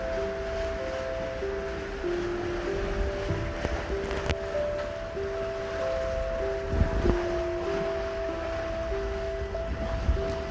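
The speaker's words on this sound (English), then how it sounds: "We have 13 knots of wind. We're beating into the wind at 5 knots." Steady wind and water wash around a Seawind 1260 catamaran beating upwind at about 5 knots in 13 knots of wind on the South River, a continuous broadband rush with faint tonal hums and occasional knocks.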